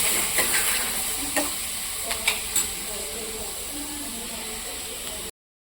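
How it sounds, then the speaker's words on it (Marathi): Chopped tomatoes and onions frying in oil in a pan for chole bhaji, a steady close sizzle and hiss with a few light stirring clicks, no voices, then sudden silence near the end. "आता जे आपण टमाटर चॉप केले त्याला आपण 2 मिनिटांसाठी तेलामध्ये होऊ द्यायचं आहे"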